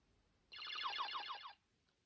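A Game Boy Color's small speaker plays the Pokemon Blue startup chime, a bright, clear electronic jingle of about one second in a quiet room.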